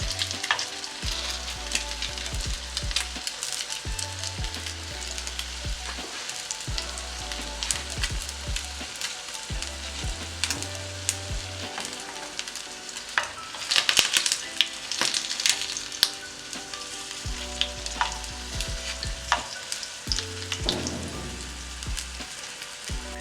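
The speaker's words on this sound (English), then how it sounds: "So our sausages are almost done. You can see they're really browning up really well" Sausages frying in a pan, a steady close sizzle and crackle running throughout with occasional louder spatters and pops, no voices.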